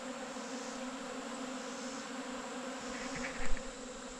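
Honeybees buzz around cleaned honey supers set outdoors for them to reclaim, a steady, even drone with a slight swell near the end.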